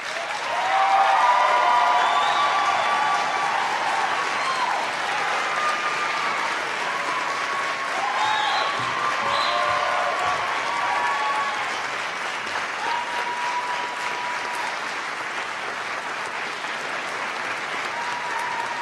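Steady, sustained applause from a large audience at a college honors convocation, filling a hall and continuing without a break.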